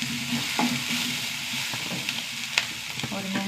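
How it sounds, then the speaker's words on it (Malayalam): Mustard seeds and crushed chili fry in hot oil for a potato and drumstick stir-fry, giving a steady close sizzle with scattered sharp pops and scraping stirs, and no voice. "കടുക് പൊട്ടിച്ചിട്ട് കുറച്ച് ചതച്ച മുളക്,"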